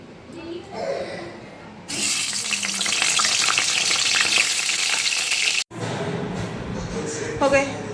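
Eggplant and pointed gourd slices hit a hot pan with a sudden loud sizzling hiss that fills several seconds, then cuts off; soft talking comes before and after.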